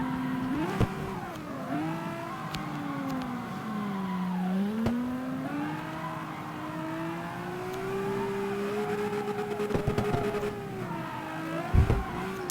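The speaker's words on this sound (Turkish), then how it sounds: "Son bir kere drift yapacağız." A car drifts in the CarX Street video game, its engine revving and wavering in pitch through long slides, with tyre squeal throughout and no talk.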